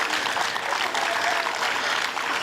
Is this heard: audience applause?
yes